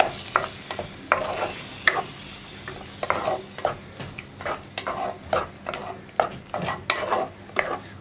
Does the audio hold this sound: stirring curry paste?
yes